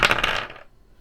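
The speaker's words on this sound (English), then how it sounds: "Percentage dice, please." Percentage dice rolled onto a table during a Greyhawk tabletop role-playing tournament, a short rattling clatter that bounces a few times and settles within about half a second, fairly close and clear with no talking.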